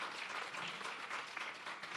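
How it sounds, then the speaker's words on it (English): Audience applause at a trade board's export academy launch event, a steady dense wash of many hands clapping throughout, fairly distant and even in level. "Another round of applause."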